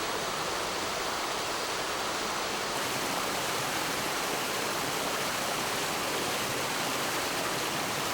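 A mountain stream in the upper valley of Paro Lake rushes steadily, a dense, unbroken roar of flowing water, close and loud with no voices.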